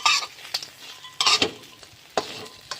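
Jikung, edible insects, are stir-fried in a pan until dry, with a spatula scraping in repeated bursts over a soft sizzle, close and distinct.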